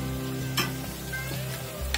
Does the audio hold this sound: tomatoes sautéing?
yes